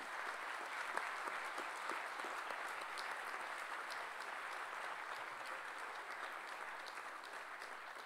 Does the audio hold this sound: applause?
yes